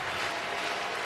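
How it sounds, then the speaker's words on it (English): Stadium crowd at a Toronto Blue Jays vs Los Angeles Dodgers playoff baseball game clapping together, a dense, steady wash of applause with crowd noise throughout, no voices standing out. "They say everybody clap your hands"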